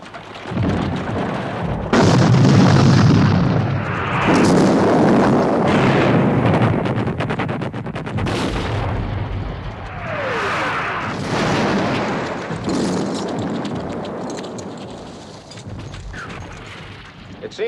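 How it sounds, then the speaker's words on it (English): Heavy artillery cannon fire at the Waterloo battle rolls in loud, booming waves with deep rumbles and overlapping blasts, mixed with battlefield noise and what may be galloping horses. "Now's the time to move all the heavy artillery against Picton."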